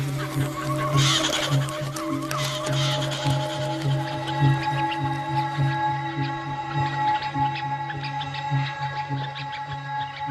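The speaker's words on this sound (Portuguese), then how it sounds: "Este leopardo escutou o barulho de uma pequena risada de ganso à distância." Distant goose-like honking and clucking calls repeat over a steady bed of birdsong and buzzing outdoor ambience.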